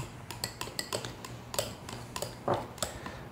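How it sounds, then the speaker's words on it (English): A spoon stirs strawberry pie filling into cake batter, giving a series of light, irregular clicks and soft scrapes against the bowl, close and fairly quiet, with no talk. "I'm going to add my strawberry pie filling to this"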